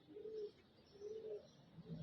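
Pigeons coo softly in a repeated rhythm, with three low, rolling calls at a distance over a faint, quiet outdoor background.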